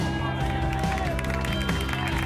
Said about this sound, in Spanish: Un fuerte aplauso también, como no, a la persona que hace la entrega de premios